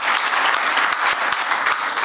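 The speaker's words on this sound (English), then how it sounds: "One more round of applause for those lightning talks" A conference audience at an AI policy event bursts into dense, loud applause after a set of lightning talks, a continuous mass of clapping filling the whole moment.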